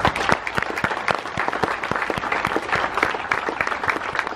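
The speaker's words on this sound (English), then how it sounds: "I'd like to give them one more round of applause." Crowd applause at the grand opening of a 5.11 Tactical store in Jacksonville, Florida: dense, steady clapping from a sizeable audience, close and loud, with sharp individual claps standing out throughout.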